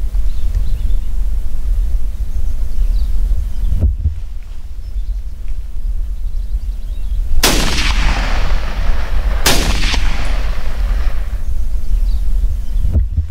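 Two sharp rifle shots at a red deer hind ring out outdoors during a hunt in Oliva de Mérida, a couple of seconds apart, each with a rolling echo, over steady wind noise; an earlier fainter crack precedes them.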